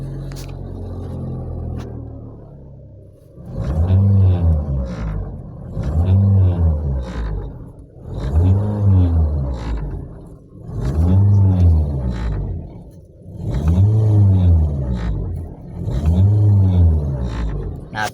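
Toyota Vios engine with a faulty engine support, running with strong vibration: six regular surges of low, throbbing rumble, each rising and falling over about two seconds, recorded close with no talk.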